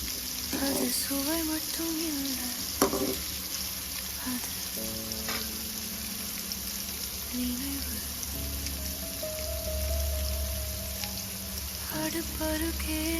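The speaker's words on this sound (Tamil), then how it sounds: "வெங்காயம் நல்லா வதங்கணும்." Small and large onions frying in a pan for spicy mutton boti fry, a steady close sizzle and crackle throughout with occasional stirring clinks and a voice in the background.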